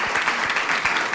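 Steady audience applause in a French talk-show studio, dense overlapping claps forming a continuous, fairly loud wash with no voices over it.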